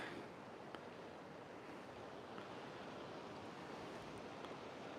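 Sea surf washes steadily onto the beach at Playa Paraíso in a continuous, even rush, fairly quiet and mixed with some wind noise, with no one talking.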